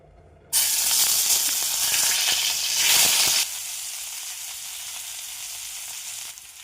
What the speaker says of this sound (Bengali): তারপরে ফুলকপিটা ভালোভাবে ভেজে নেব